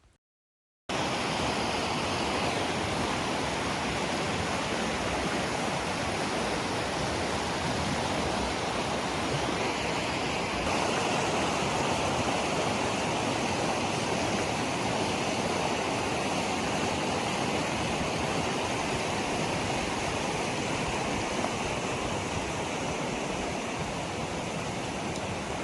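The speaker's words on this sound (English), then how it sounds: "This waterfall is the Attinghausen and the next one is the Stauber Waterfall." Attinghausen waterfall in the Uri region of Switzerland gives a dense, unbroken roar of falling water, steady and loud from start to finish with no voices.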